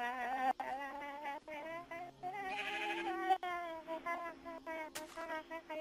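Sheep in a video game bleating over and over, a string of wavering, nasal calls at moderate loudness broken by a few sharp clicks and a brief noisy burst.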